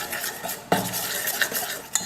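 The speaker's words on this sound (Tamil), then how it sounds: "வெல்லத்தை ஒரு பாத்திரத்தில் சேர்த்து முதல்ல கரைச்சிக்கலாம்." A spoon stirring jaggery with a little water in a metal vessel on a stove to dissolve it, close scraping and clinking strokes with a few sharper knocks against the pot, no talk.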